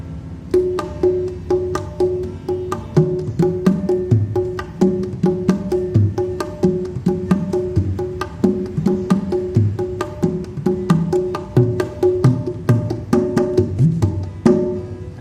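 Kendang tam tam hand drum strokes played together in a lively koplo groove, a fast steady rhythm of deep booming bass hits and sharp slaps, close and loud with no talking.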